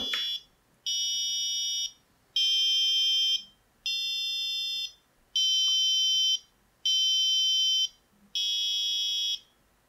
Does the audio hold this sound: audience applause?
no